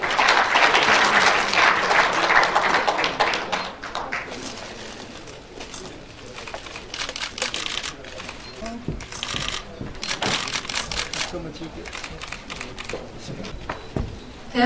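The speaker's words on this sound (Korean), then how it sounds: "여러분 큰 박수 부탁드립니다." Applause from the audience at a Korean education award ceremony rises in dense bursts, thins out, then picks up again with scattered claps and room noise.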